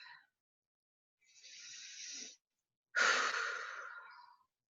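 Slow, deep breaths during a guided mindfulness meditation: a short exhale, then a long, soft inhale followed by a louder, drawn-out exhale, close and alone in quiet surroundings.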